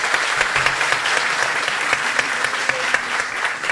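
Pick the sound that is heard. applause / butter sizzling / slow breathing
applause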